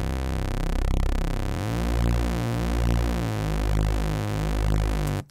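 Dry saw bass from a Massive software synth, a buzzy raw sustained tone changing pitch a few times, loud and steady, alone without effects.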